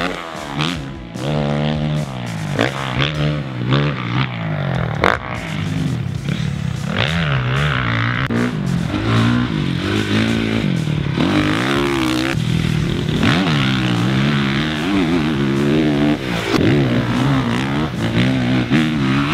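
A 2015 Honda CRF450R motocross bike's four-stroke engine runs hard and loud for the whole stretch, revving up and down in repeated rising and falling sweeps, with no talking.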